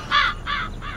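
A crow caws three times in quick succession, harsh and clear, close up with little else around it.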